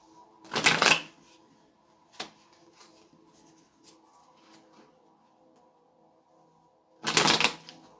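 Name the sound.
shuffling cards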